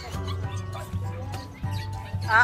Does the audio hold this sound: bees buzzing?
no